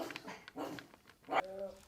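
A dog whimpers close by in a kitchen while chocolate baking is underway, giving a few short whines, with a brief higher tonal whine near the end.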